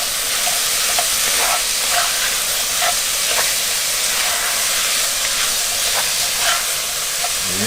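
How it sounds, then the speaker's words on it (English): A tablespoon of garlic sizzles after going into a chicken vegetable soup pot, giving a loud, steady frying hiss with small crackles and pops running throughout. "Now, we will go ahead and add our garlic, a tablespoon, which is the equivalent of about"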